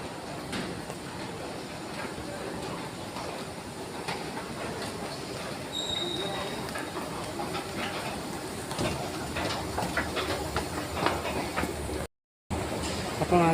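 A driverless metro train at a station in Doha, Qatar, rumbles steadily with faint wheel squeals and clicks, heard nearby for the whole stretch with a short gap near the end.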